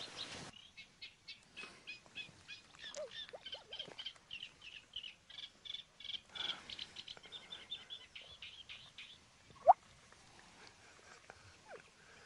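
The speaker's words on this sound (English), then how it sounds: "And here, I've got a reed warbler." A reed warbler sings in reedbeds, recorded through a parabolic microphone: a long, fast chattering run of repeated scratchy notes in steady rhythm, moderately close, with one brief louder chirp near the end.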